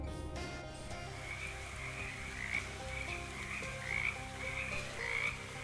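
Frogs croak in the video game Shadows Over Loathing, a steady chorus of repeated croaks over a continuous ambient music bed, moderately loud with no talking.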